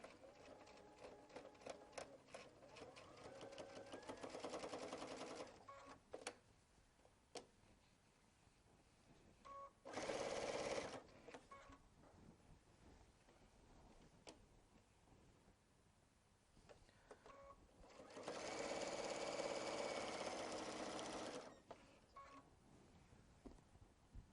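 A sewing machine stitches binding onto a 3D flower quilt panel in two sustained whirring runs, one short and one longer, with clicks and quieter handling between them.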